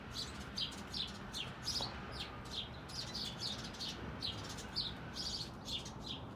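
Several small birds chirp and tweet in quick, overlapping bursts, sharp high calls scattered throughout against a steady outdoor background rumble, with no one speaking.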